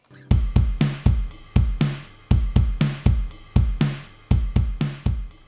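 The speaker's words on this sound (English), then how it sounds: "these are what the drums sound like" An acoustic drum kit plays a steady rock beat alone, punchy kick and snare hits with bright cymbal wash, close and clear.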